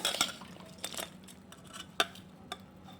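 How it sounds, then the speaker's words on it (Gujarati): A spoon stirs and mixes farali bhel with rock salt in a bowl, giving scattered light clinks and scrapes against the dish, close up and with no talking. "ને હવે આપણે બધું મિક્સ કરી લેશું ને હવે આપણે સિંધાણું મીઠું એડ કરી દેશું"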